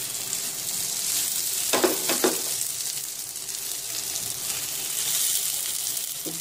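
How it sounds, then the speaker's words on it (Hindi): Eggplant slices frying in a pan over moderate heat, a soft continuous sizzle with a couple of brief clattering knocks partway through. "कितनी अच्छी तरह से बैगन पक रहा है मेरा।"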